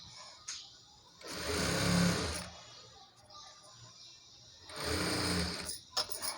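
A sewing machine stitches saree fabric to its lining for an umbrella frock in two quiet, close bursts of rapid, even whirring separated by a short pause.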